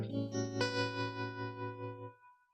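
An electric guitar, a Strat, played through a Bad Cat boutique amplifier with its power-amp tremolo, gives a few sustained chords that pulse in a steady wobbling rhythm and then ring out and fade.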